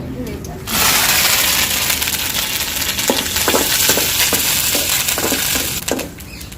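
Cumin seeds frying in hot tempering oil make a loud, continuous close-up sizzle with scattered crackles and pops, which starts abruptly and dies away at the end.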